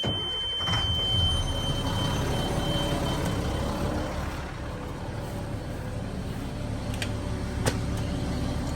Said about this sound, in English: You know what's better than one running Army truck?